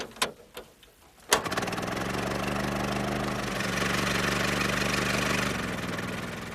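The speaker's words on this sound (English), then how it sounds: "This is a 1915 Model T Ford, built at Manchester" A 1915 Ford Model T, built in Manchester from American parts, starts with a sharp crank catch after a few quiet turns, then settles into a steady, close, even idle that runs unbroken to the end.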